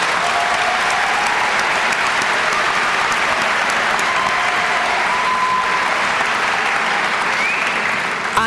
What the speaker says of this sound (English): How about a round of applause for our families?